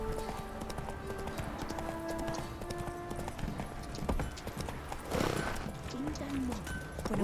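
Roach, a horse in the video game The Witcher 3, trots with steady clip-clop hoofbeats over a game ambience, with a brief louder flourish near the end and no talk.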